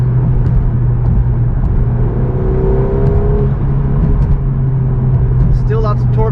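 A 2023 Volkswagen Golf R pulls hard in fifth gear from inside the cabin, its engine note a steady, rising drone that holds loud and continuous throughout, with a low rumble underneath and no pauses.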